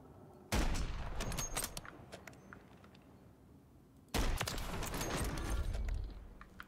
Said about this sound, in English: I shot him in the spine